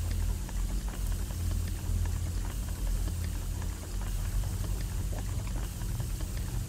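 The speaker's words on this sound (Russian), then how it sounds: "Вот он загорелся, даже несмотря на то, что его тушит вода." In the Hello Neighbor video game, a bear toy burns while being doused with water, giving a steady hissing, sizzling crackle that continues evenly and moderately loud throughout.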